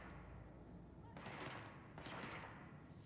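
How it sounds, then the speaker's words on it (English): Gunfire in the video game Control, two bursts of distant rapid shots with a hazy, muffled quality over a constant rumbling background. "I thought I heard bullets or gunshots."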